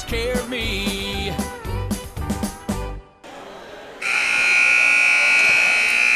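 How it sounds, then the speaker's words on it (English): A loud, sustained electronic buzzer sounds at a high school varsity basketball game between Preston and Philip Barbour, following a stretch of music and a brief drop in level, then holds steady to the end. "we come back as the buzzer sounds"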